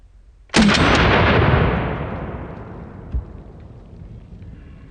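A single 7.62x39 rifle shot fired into pumpkins: one sharp, very loud blast followed by a long rolling echo that fades over several seconds, with a faint thump afterward.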